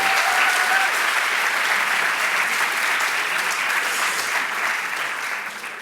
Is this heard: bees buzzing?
no